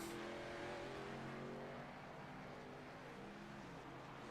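A race car pulls away from the pits in a racing league event, its engine a distant, steady drone that holds and shifts pitch slightly, with no voices over it.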